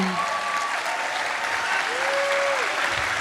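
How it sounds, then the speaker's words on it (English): Dense applause from a live audience at a comedy Q&A, steady and sustained throughout, with a brief whistle-like tone rising faintly over the clapping. "Give a round of applause to Dublin."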